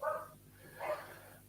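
A dog barks twice indoors, two short, moderately faint woofs about a second apart, with no other sound around them.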